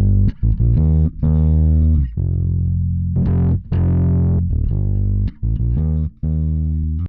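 Bass guitar played through the Arturia DistOp Amp 21 distortion plugin, a loud, buzzing, overdriven tone in a series of sustained notes and short stabs separated by brief gaps, with no voices.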